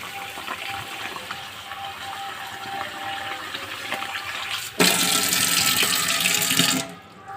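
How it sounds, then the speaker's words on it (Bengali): Gobindobhog rice being washed under a running tap in a home kitchen, a steady rush of water that swells into a louder, fuller gush near the end before cutting off abruptly. "এই যে দেখো গোবিন্দভোগ চালটা আমি এখন ধুয়ে নেব।"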